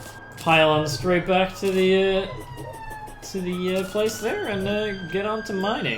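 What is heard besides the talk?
ambulance siren passing in the background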